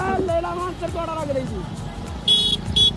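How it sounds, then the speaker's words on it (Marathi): Road traffic crawls through a crowded Marathi village fair: cars idle past, a couple of short horn toots ring out near the end, and crowd babble and nearby talk run throughout. "पोरं कमी गाड्या जास्त आहेत त्या मागे सुद्धा कार लागली आणि ट्रॅफिक आहे बक्कळ"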